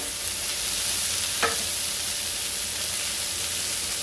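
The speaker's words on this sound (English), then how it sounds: "Okay, steak goes in." Steak searing in a stir-fry pan for a broccoli beef stir-fry, a steady broadband sizzle throughout with one brief clatter midway, close and fairly loud.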